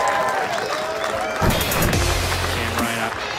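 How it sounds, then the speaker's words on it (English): A massive crowd at a longest-kick event by a river, a steady roar of cheering and chatter with a sharp thump partway through, filling the whole clip. "Absolutely massive crowd down here"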